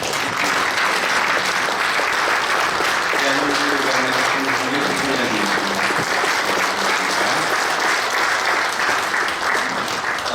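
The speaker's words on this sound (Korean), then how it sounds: "큰 박수로 감사드립니다" A packed church gathering bursts into loud, steady applause at a pastor's inauguration thanksgiving service, with dense clapping that keeps going the whole time and faint crowd murmur underneath.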